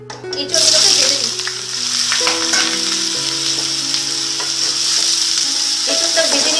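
Raw jackfruit pieces frying in hot mustard oil, an immediate loud sizzle that settles into a steady bright hiss with occasional stirring knocks, heard up close and without speech.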